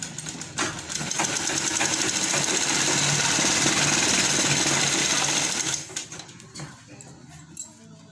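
A sewing machine stitches the lining of a fancy-neck blouse, running steadily and loudly for about five seconds before stopping, followed by faint handling noises.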